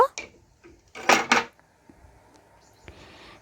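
Cooked masoor dal with vegetables is moved from a kadai into another pot: a few sharp metal clatters and clanks in a quick burst, then quieter scrapes and one last knock.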